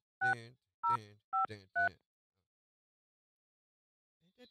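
A phone number is dialed for a morning radio call, with four short, loud key tones in quick succession, then silence and a faint trailing sound.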